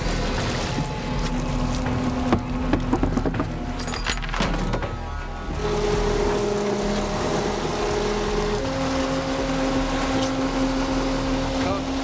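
Fishing boat Endurance motors along at speed on open water, a steady engine drone with wind and hull noise; tonal engine hums shift pitch midway, with a brief rattle and short speech-like sounds around the third and fourth seconds.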